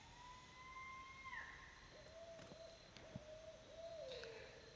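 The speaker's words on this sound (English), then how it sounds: "like what you'd expect an owl to sound like" Owl hoots in an outdoor field recording, one call fairly close and another farther off, sounding as drawn-out tonal notes against a quiet background with a few faint clicks.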